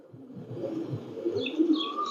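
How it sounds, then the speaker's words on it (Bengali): A male Pakistani pipla pigeon coos in low, throaty pulses, close and steady over a faint background murmur. "এটা পিপলা নর কবুতর"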